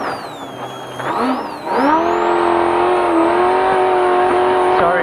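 In-car roar of a trophy truck engine during an off-road race, steady and loud with pitch rising and sweeping as it revs, over rumbling chassis noise.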